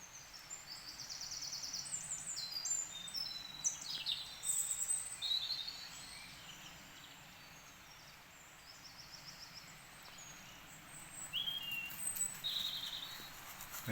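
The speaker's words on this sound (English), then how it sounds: "Nothing but bird song, listen to that." Birds chirp and trill in a woodland clearing beside a small river. Several distant songs come in scattered phrases over a soft, steady outdoor background.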